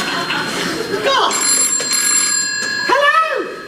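Telephone ringing on stage during a theatre performance of the farce Noises Off: sharp, bright bell trills repeat under and between an actor's spoken lines, loud and close.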